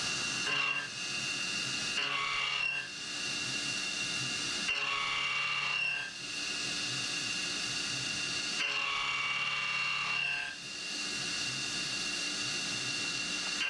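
Milling machine cutting an AR15 high rail gas block with some chatter, a continuous whining cut with a steady ringing tone and periodic dips as passes change, no talking.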